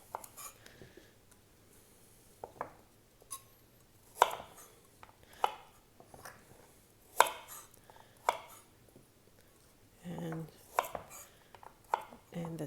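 Knife chopping the roots and tips off carrots on a cutting board, sharp separate thunks and cuts in an irregular rhythm, close and clear with quiet gaps between.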